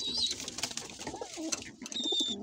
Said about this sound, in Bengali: এই দেখেন আমাদের কবুতরগুলো এখন এই যে এই কয়টা কবুতর আমাদের এখানে আছে